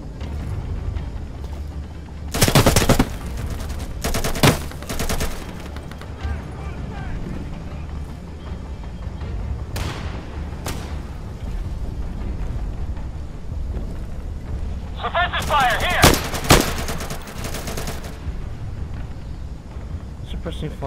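Bursts of automatic gunfire in Insurgency: Contact, two sustained loud volleys early, a few shorter shots midway, and another long burst near the end, over constant game ambience with a voice speaking throughout.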